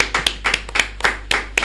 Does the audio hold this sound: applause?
yes